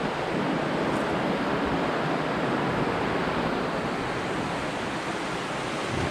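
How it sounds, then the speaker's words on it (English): Steady broadband rush of a strong-flowing creek along the Susquehanna River, constant and fairly loud throughout, with no voices or breaks. "the current's pretty strong too. It's a nice size creek"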